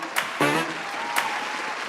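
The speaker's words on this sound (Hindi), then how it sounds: "तो हम बुलाते हैं आपकी भरपूर तालियों में मिस्टर समर अब्बास।" Studio audience on a Pakistani late-night talk show applauds to welcome a guest, a steady dense wash of clapping with a few sharper bursts, close and fairly loud throughout.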